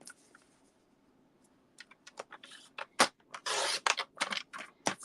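Cardstock being trimmed to size for a pop-up flip card, close scraping and sharp cutting strokes with clicks after a quiet start, no speech.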